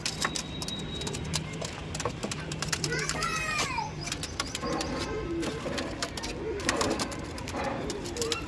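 Pigeons coo in soft, low warbling calls amid a busy, noisy background with children and adults talking nearby.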